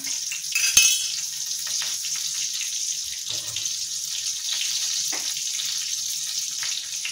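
Sliced ingredients for rava upma sauté in a hot pan with a steady, close sizzling hiss. A brief louder clatter comes near the start and soft stirring scrapes follow, with no voices.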